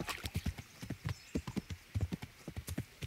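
A horse named Roach gallops in Kingdom Come: Deliverance, with steady, rhythmic clip-clop hoofbeats that sound close and clear and continue without a break, with no talking over them.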